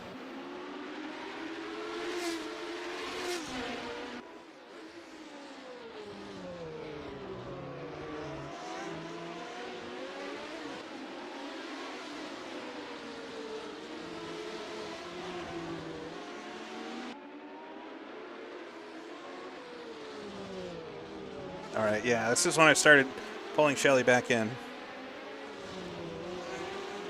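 1970s Formula One cars race around Montjuïc Park in Assetto Corsa, with a steady engine drone and shifting revs and a louder burst of revving near the end, while someone talks over it.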